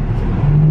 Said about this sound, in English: just a little courtesy acceleration run